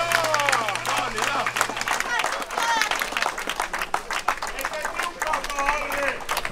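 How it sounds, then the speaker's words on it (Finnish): At a chili festival's last-man-standing eating contest, an outdoor crowd claps and cheers for the contestants, lively applause mixed with shouting voices and crowd chatter throughout. "nyt saa taputtaa kilpailijoille"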